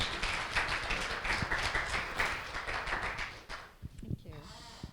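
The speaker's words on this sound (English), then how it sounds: "Let's give them a round of applause for all their work" An audience applauds presenters at a college design team update, a dense steady patter of clapping that fades out near the end as someone begins to speak.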